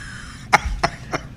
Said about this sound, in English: You're making me cough.